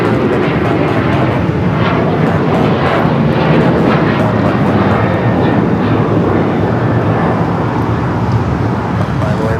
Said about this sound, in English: This is United Airlines 1218 taking off to Baltimore on the 737-900ER